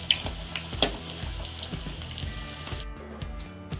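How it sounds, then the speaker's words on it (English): Shrimp and corn bakwan fritters fry in hot oil with a steady crackling sizzle, sharp pops breaking through now and then, close and fairly quiet. "fried bakwan until cooked"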